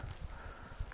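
Horse hooves clip-clopping in the video game Ghost of Tsushima, a short burst of soft, muffled hoofbeats over a dull background rumble.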